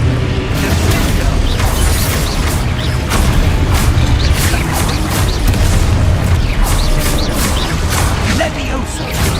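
Spell effects in the Hogwarts Legacy video game: a dense run of magical booms, crashes and mechanical clatter, loud and continuous with frequent sharp impacts, as a voice keeps shouting spell names over them.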